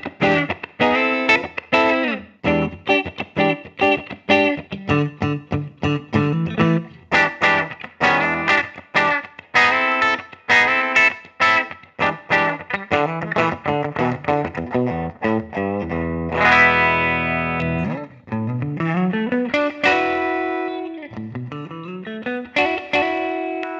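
A 2022 Valiant Guitars Smith electric guitar, a boutique instrument from Ukraine, played through effects with an open, chimey tone: quick picked notes and chords, then sustained bends and slides, loud and alone.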